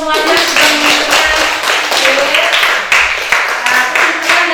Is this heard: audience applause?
yes